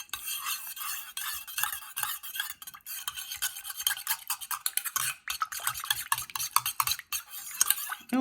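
A whisk beats a homemade toner lotion for oily skin in a small bowl, giving rapid, continuous scratchy clicking and swishing strokes in an uneven rhythm, close and fairly loud, with no talking.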